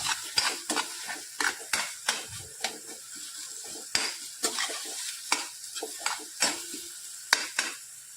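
Salt being stirred into eggplant bharit in a pan, the spoon scraping and clacking in repeated sharp strokes at a steady rhythm over a soft sizzle, close and clear with no talking.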